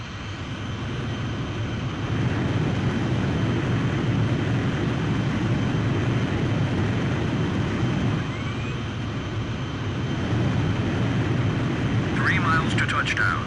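A jet aircraft on carrier landing approach in Ace Combat 5 drones in a steady, loud roar that holds throughout, with voices talking over the engine noise.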